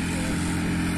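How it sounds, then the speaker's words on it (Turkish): A tractor engine runs at a seaside campsite near a restaurant area, giving a steady, close, loud rumbling drone with no pauses across the whole moment. "Traktör gelmiş."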